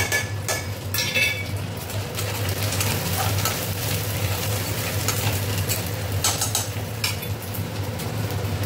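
Whole cardamom, cinnamon and cloves fry in a pan with a steady, close sizzle, while a spoon stirs and clinks against the metal now and then.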